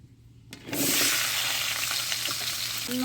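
Pieces of pumpkin, cauliflower, potato and carrot hit hot mustard oil after a brief quiet moment, bursting into a loud, close sizzle that keeps crackling steadily, with faint stirring knocks and no talk.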